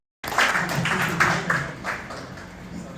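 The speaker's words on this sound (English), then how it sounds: "A round of applause for yourself for your contribution" A lecture audience applauds, a short burst of scattered clapping that starts abruptly, then thins out and fades over a few seconds.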